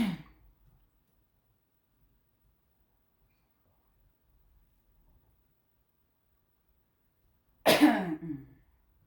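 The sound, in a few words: coughing and throat clearing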